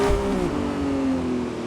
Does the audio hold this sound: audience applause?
no